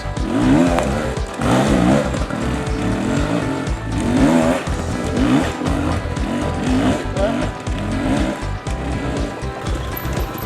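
An enduro dirt bike climbs a rutted hill, its engine loud and steady throughout with rhythmic revving surges as the rider works the throttle over deep ruts, no talk heard.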